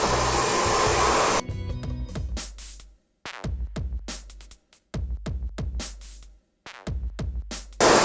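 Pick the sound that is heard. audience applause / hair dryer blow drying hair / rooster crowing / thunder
hair dryer blow drying hair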